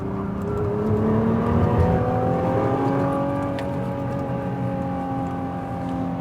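Nissan GT-R Premium accelerating hard on an autocross course, its engine holding a loud, sustained rising drone with layered whine, close and continuous throughout.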